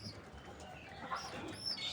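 A pigeon coos softly inside a breeding cage, the faint, low call half-buried in quiet background noise, with light chirps from nearby birds.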